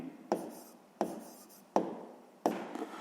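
A pen writes on paper during a sixth-grade maths exercise, making four distinct scratching strokes at roughly even intervals, each with a sharp onset that fades quickly. The sound is close and quiet, with no talk over it.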